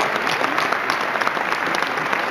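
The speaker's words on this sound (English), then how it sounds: "Please give them a round of applause." Audience applause at the Beaux Arts 2019 gala honoring a family foundation's generosity, a dense steady wash of many hands clapping from a sizable crowd, even and sustained throughout.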